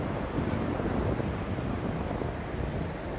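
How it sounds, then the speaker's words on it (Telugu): Sea waves rumble and wash in a continuous low roar at Kakinada beach, India, shortly after a cyclone, with wind buffeting the microphone throughout. "తుఫాన్ తర్వాత ఇప్పుడే కొద్ది కొద్దిగా అలలు ప్రశాంతంగా వస్తున్నాయి"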